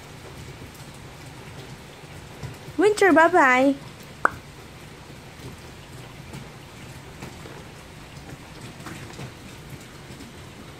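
Steady rain falls throughout on an early autumn day, a constant soft hiss with light patter, while a voice speaks briefly over it.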